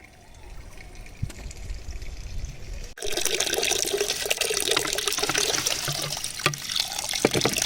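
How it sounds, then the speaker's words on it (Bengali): Leafy greens being rinsed under running water outdoors, with a steady rushing splash that grows louder and fuller partway through and carries on continuously up close. "শাকটাকে একদম ধুয়েই নিয়ে যাই তাহলে আমাকে নিচে গিয়ে শাক ধুতে হবে না"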